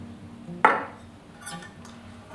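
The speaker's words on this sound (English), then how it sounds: "We're simply going to add 2 tablespoons of flour" A tablespoon of flour being added to a sourdough starter during its evening feeding: one sharp clink of metal spoon against jar, then softer scraping and a second tap at the end, close and quiet.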